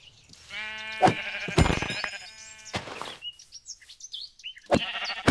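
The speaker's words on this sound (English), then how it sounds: "As soon as I clear out these sheep." Several sheep bleat loudly in long wavering calls in Minecraft (Mythics and Magic), interrupted by sharp thuds and clicks, with game-like sound effects between the bleats.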